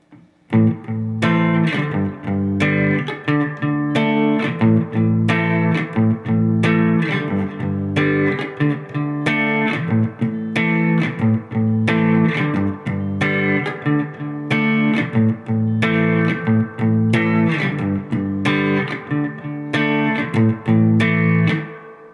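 An electric guitar with distortion plays a song's introduction riff at full tempo, four times through, in loud repeated chord stabs with no voice.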